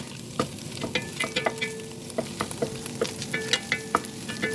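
Goat meat and soy protein are stir-fried in a pan for a basil-style dish, giving a close, steady sizzle broken by frequent spatula scrapes and knocks that come in a quick, uneven rhythm.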